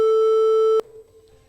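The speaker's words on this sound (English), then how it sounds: "Let's once again hear the buzzer for AHMADIYYA." A quiz competition answer buzzer gives one loud steady electronic tone for under a second and then cuts off abruptly, leaving a faint room tail.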